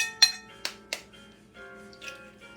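An egg being cracked against a bowl rim for broccoli cornbread batter, with three sharp clinking taps in quick succession followed by softer shell and liquid sounds, close and clear.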